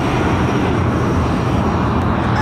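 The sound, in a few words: Eurowings A320-200 airliner landing at Madeira Airport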